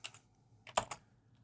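Short bursts of typing on a computer keyboard, a few quick key clicks at the start and then a tight cluster of three or four louder taps, close and alone with no talking.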